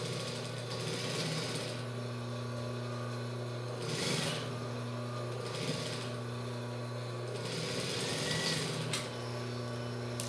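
A sewing machine stitches the leg hem of a child's shorts, running steadily with a continuous mechanical hum and faint periodic surges, close and fairly quiet with no talking.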